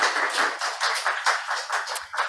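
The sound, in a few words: audience clapping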